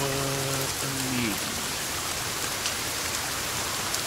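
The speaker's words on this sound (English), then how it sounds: "I can barely hear over the rain" Steady, heavy rain in the video game Sons of the Forest hisses continuously, a dense wash of noise with a brief low tone fading out near the start.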